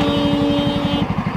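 A Jawa 42 motorcycle ridden through traffic thuds with a steady, rapid, close engine pulse, accompanied by a faint constant whine.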